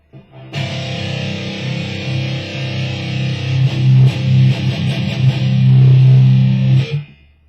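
Heavily distorted electric guitar on an amp's distortion preset, playing chugging riffs and chords for several seconds, loud and dense, with no voices.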